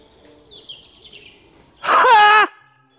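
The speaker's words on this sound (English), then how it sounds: "just listen to the silence and the bird song" A short, loud bird call bursts out in woodland after a quiet stretch with faint chirps, bright and close, rising and falling briefly before fading.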